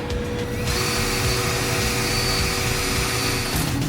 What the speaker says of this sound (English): let's get the drilling